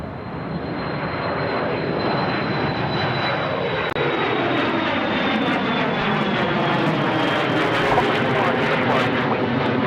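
Embraer airliner at Sydney Airport, its engines roaring as a loud, steady, broadband rumble that stays strong and continuous through the whole stretch.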